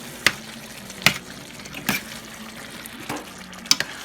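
Cooked vegetables are stirred into a mint, coriander and coconut gravy, giving a soft bubbling simmer. Five distinct clanks of a spoon against the pot are spaced about a second apart, close by and with no voice.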